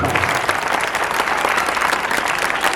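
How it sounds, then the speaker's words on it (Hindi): A standing audience gives loud, sustained applause to welcome guests at a Teachers' Day tribute event, dense clapping filling the whole stretch at a constant level. "आप अपने स्थान पर खड़े होकर के और जोरदार तालियों से उनका स्वागत करेंगे"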